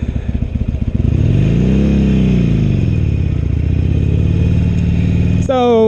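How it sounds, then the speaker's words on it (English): Harley-Davidson Iron 883 motorcycle engine revving up close and loud, its pitch swelling and falling over a steady rumbling idle, with a brief sharp mechanical sound at the very end. "You wanted me to rev the engine?"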